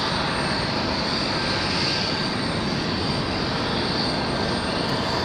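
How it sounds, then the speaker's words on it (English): A Delta Airbus A320 or A321 jet departs runway 23 at Raleigh-Durham International, giving a loud, unbroken engine roar throughout, with no voices. "We've got another one headed out of Delta. Fly runway heading, runway 23 It's like an A320 for Delta, possibly an"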